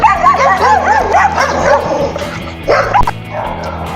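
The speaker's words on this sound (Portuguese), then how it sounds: "os cachorros aqui pegando" Dogs barking and yipping close by in rapid, excited bursts with whimpering notes, several animals overlapping in a short outdoor scene.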